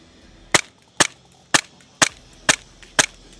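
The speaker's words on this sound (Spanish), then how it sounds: "el disparo con CO2 es un disparo mucho más fuerte, se siente mucho más esta energía cinética de retroceso" Six evenly spaced sharp cracks from a CO2 blowback semi-automatic pistol, each loud and close with a short mechanical clack right after, fired about half a second apart with no talking.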